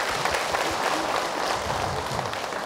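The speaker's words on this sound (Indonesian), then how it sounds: "Tepuk tangan Ibu untuk Ibu Wiwin." An audience at an Indonesian religious talk gives a warm round of applause for a woman guest, heard as a dense, even wash of many hands clapping close by without pause.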